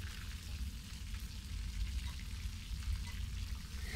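Food frying slowly in a pan over low heat until crunchy, giving a gentle, steady sizzle with light crackling throughout, quiet and near with no talking.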